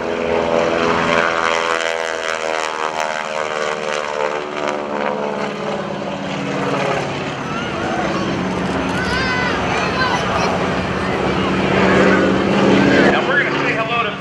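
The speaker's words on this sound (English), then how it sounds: "Watch for the nose to come up as he does the Texan roll on takeoff." A propeller airplane takes off at the NAS Oceana airshow, its engine droning loud and steady throughout, with a rising, shifting pitch as it rolls into the air, while a voice talks over a public address.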